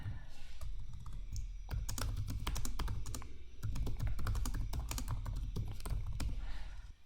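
Steady typing on a computer keyboard, close and clear, with rapid key clicks in continuous runs and a brief pause midway.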